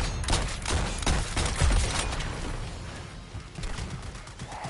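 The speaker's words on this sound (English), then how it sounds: "Oh, they're shooting at me." Dense volleys of gunfire in Suicide Squad: Kill the Justice League, shots crackling in overlapping bursts amid explosions and game noise, loudest early then thinning slightly while staying steady throughout.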